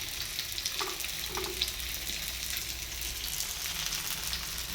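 Fish fries in a pan with a soft, steady crackling sizzle that stays even and fairly quiet throughout, with a few faint pops and no speech.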